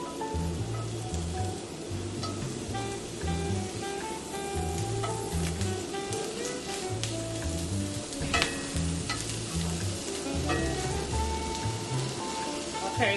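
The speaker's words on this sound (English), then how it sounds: "So now I'm going to add the pepper and onion. And then I'm going to saute them for a few minutes." Pepper and onion sauté in olive oil in a pan, giving a steady, close crackling sizzle throughout with occasional stirring scrapes and background music underneath.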